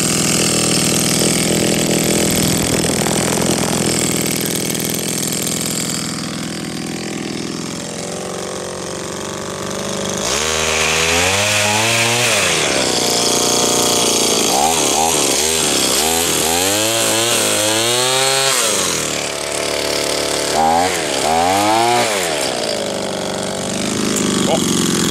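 A Honda HRD 535 lawnmower engine runs loudly and steadily up close while its idle is adjusted, the pitch rising and falling in repeated surges; someone talks over it.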